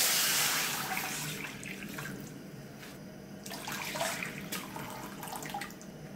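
About two cups of water pour steadily into a pot for boiling sweet potatoes, a soft continuous splashing rush that fades a little, then gurgles with brief splashes, with no talking over it.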